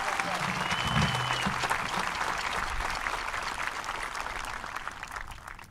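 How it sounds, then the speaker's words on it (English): Audience applause at a 2023 high school commencement, dense, sustained clapping from a large crowd in a hall that slowly tapers off, with a faint voice underneath at the start. "Please join me in giving these groups a round of applause."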